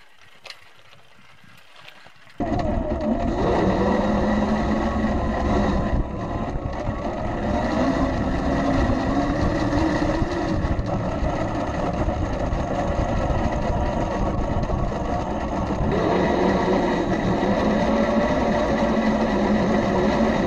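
A Blue Bike electric trike being pedaled and then run on its throttle, giving a continuous loud, close drone and whir with wind rush for about eighteen seconds after a quiet start.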